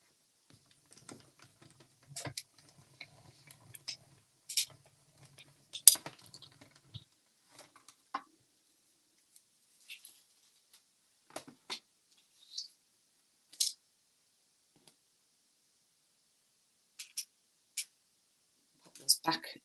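Paper card-making pieces for a Stampin' Up project are cut out in quiet scattered clicks and snips, with short sharp sounds separated by silent gaps and someone speaking softly in between.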